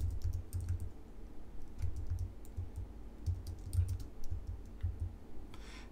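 Light keystrokes tap on a computer keyboard, with short bursts of quick typing spread over several seconds over a low background rumble, fairly faint and close.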